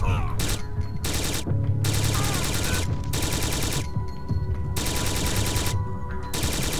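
Dense enemy gunfire in Syphon Filter: Logan's Shadow, continuous overlapping automatic bursts with sharp gaps, loud and close, running the whole stretch with a faint voice underneath.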